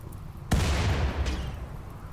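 Frag grenades burst in RimWorld, a sudden sharp blast that decays into a rumbling tail, followed by a softer second pop, with no voices over it.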